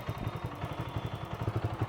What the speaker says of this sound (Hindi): ये लो CNG पर शिफ्ट कर ली और CNG चलने लगी